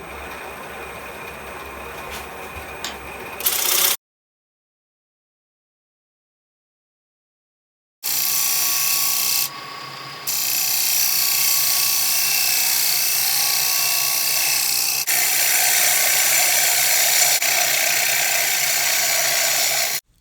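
A wood lathe spins with a steady whirring drone as a turning tool cuts away the tenon on the base of a Viking-style wooden bowl. The sound breaks off into a gap of several seconds, then the loud machine noise resumes.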